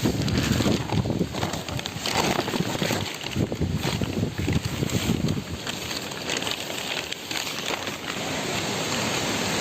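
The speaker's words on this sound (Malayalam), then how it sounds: "അതിഭീകരമായ കാറ്റാണ് അതിഭീകരമായ കാറ്റ് അതിഭീകരമായ കാറ്റ്" Strong wind gusts roar steadily in the open, buffeting the microphone with a loud, continuous rumble and rushing noise that does not let up.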